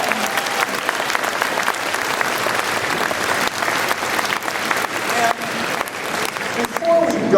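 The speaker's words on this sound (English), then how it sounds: "let's give him a big round of applause" A packed crowd at a senator's town hall in Ashland, Oregon gives a big, loud, dense round of applause, steady throughout, with chatter and a few cheers blended into the clapping.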